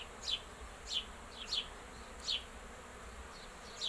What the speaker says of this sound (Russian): Вот так пчелка работает.